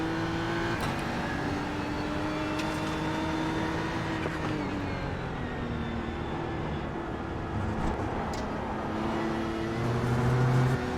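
A race car's engine during a hot lap in the iRacing sim racing game, a continuous droning engine note rising and falling with gear changes and revs, steady and prominent without talk.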